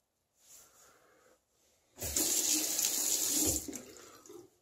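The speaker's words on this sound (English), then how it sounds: "I'm going to rinse off here." A tap runs while a razor is rinsed. Quiet splashing comes first, then a loud, close rush of water for about two seconds before it tapers off.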